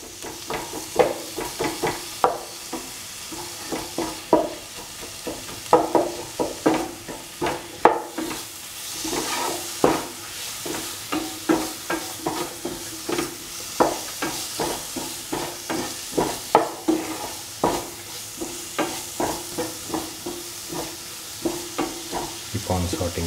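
A spoon stirs and crushes tomatoes with mixed vegetables in a pan for a home-cooked vegetable stew, giving repeated scraping and squelching strokes over a steady frying sizzle, close and moderately loud, with no talking.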